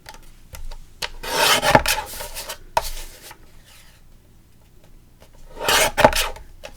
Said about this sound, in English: Let's bring in the Timmy trimmer, trim that off.